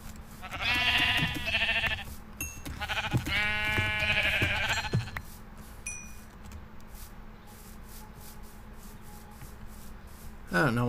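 Sheep bleating in the Minecraft video game, two loud close bleats early on, followed by quieter rustling and ambient game noise, with a soft thump near the end.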